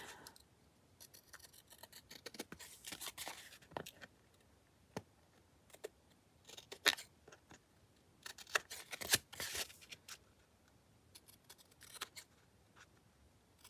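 Scissors snipping through material while someone works on a craft, a scattering of brief crisp cuts in irregular bursts, close and fairly quiet, with no talking.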